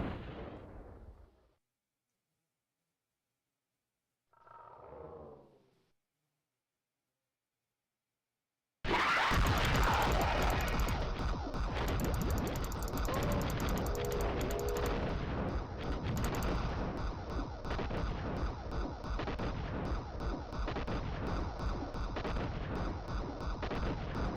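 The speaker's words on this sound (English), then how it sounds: "No, those are seeking rockets." Seeking rockets exploding in a video game, a sudden loud roar of continuous blasts and rumbling impacts that kicks in after a quiet stretch with brief talk, then holds steady.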